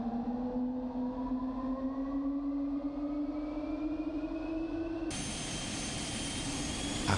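A Rolls-Royce Spey 205 jet engine starts on a test rig, a rising whine climbing steadily in pitch over several seconds, then shifting abruptly into a louder, broader roar with a high turbine tone.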